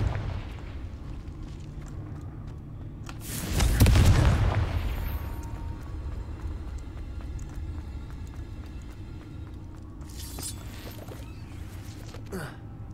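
A spell in Hogwarts Legacy detonates as a loud, deep boom that rolls into a long fading rumble, followed by softer magical whooshes and effects.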